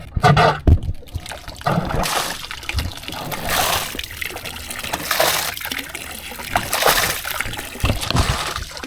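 Water from a boat's bilge pump tube splashes and gushes in uneven spurts and trickles, close and moderately loud, with brief knocks at the start and faint voices in the background.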